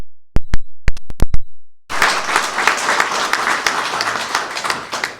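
A few scattered claps at a small business assistance event quickly swell into a full, dense round of audience applause that carries on steadily to the end.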